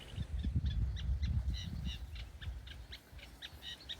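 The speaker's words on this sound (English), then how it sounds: "We're listening to the common reed warbler." A common reed warbler sings a rhythmic, chattering song with repeated churring and scratchy notes, moderately close, over a low rumbling background.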